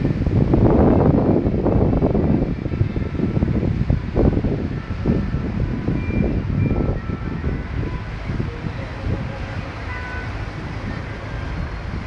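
Strong wind buffeting a microphone outdoors in Paris, loud gusty low-frequency rumbles in irregular bursts, heaviest at first and easing into a steadier blustery roar.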